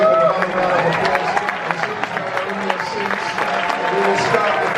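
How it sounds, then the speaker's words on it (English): Audience at the Furiosa world premiere applauding, a dense, sustained patter of many hands clapping with scattered cheers and crowd murmur mixed in. "Please give them another round of applause."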